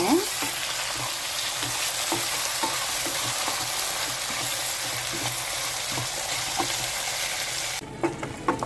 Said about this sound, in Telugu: ఇప్పుడు టమాటాలు వేసుకున్నాం ఒక రెండు టమాటాలు ఇవి కూడా వేగిపోవాలి మెత్తగా అయిపోవాలండి